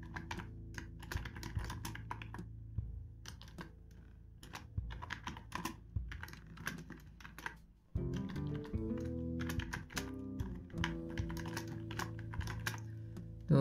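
Rapid keystrokes on a computer keyboard while entering text in a design program, close and clear, irregular bursts of clicks with short pauses and a brief louder flurry later on.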